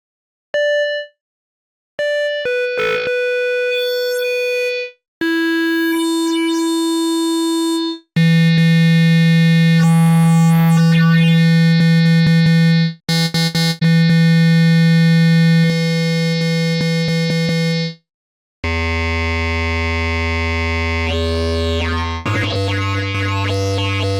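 A sequence of bright, sustained wavetable synthesizer tones, each held for a few seconds before shifting to a new timbre, some buzzy and harmonically rich, others purer.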